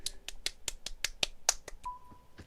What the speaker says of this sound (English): You hear the man clap.